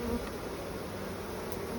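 A honeybee buzzes in a steady, close drone at a hive, alone with no talking and a faint background hum.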